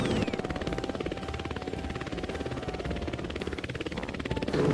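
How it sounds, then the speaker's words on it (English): A small green drone flying, its rotors giving a steady, dense buzzing whir that stays constant and fairly loud throughout. "green color drone"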